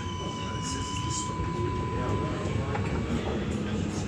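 Sydney light rail tram riding through the CBD, a steady low rumble of wheels and motor running throughout with a faint high whine along the track, while a voice speaks over it.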